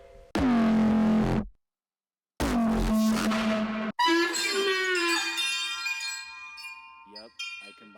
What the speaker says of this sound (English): I combined a donkey and chimes and a couple other sounds to make that